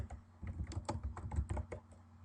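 Keys clatter on a computer keyboard as spreadsheet column headers are typed into Excel, a close, quick run of taps in short bursts with brief pauses and no talking.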